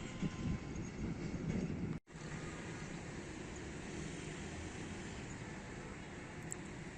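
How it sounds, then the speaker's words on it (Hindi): Pakistan Railways Awam Express passing near Rawalpindi, a loud steady broadband rumble and roar of rolling wagons that holds throughout, broken only by one brief dropout. "दोस्तों, 11 अप से पहले एक्शन हो गया है 14 डाउन अवाम एक्सप्रेस का।"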